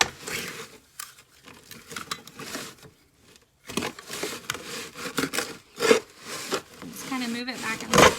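A soil blocker is pressed into damp soil and worked back and forth, giving scraping, gritty rubbing bursts in irregular strokes with short pauses, close and moderately loud, with some talk between.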